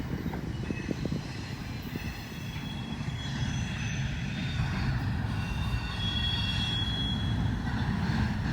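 A Norfolk Southern freight train rolls by on the tracks, a loud continuous rumble with metallic wheel squeal and ringing tones above it, steady throughout and close, with no talking.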